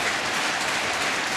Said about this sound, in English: Two-strike rhythmic applause. It's become a thing now at Citi Field.